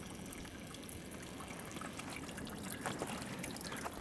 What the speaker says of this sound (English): you can still see the pipe is flowing pretty good